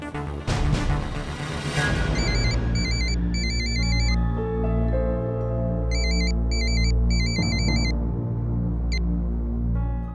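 Telephone ringtone repeating in short electronic bursts on a call in a Hindi family drama scene, fairly loud over a steady background of music and room sound.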